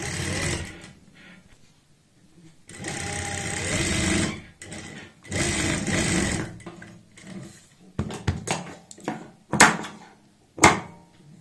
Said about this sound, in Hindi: अब हम ऊपर की साइड यहाँ पे लगा लेंगे सिलाई।